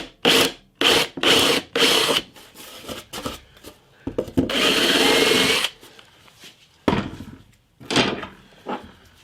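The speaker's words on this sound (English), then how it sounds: "I'm going to drill a hole through here for the bolt and then just try it" A drill bores a bolt hole through plywood for an acoustic guitar jig, heard as several short, loud grinding bursts and then one longer sustained run, with brief pauses between them.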